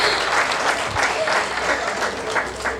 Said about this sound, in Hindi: मेरे स्वागत और सम्मान में जो आप सबने ये घनघोर तालियां बजाई हैं